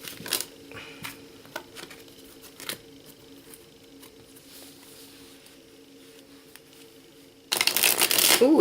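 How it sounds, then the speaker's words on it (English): A gilt-edged Sasuraibito tarot deck is riffle shuffled, one loud, close burst of fluttering cards after a stretch of quiet handling. "let's give it a little shuffle and see how that goes."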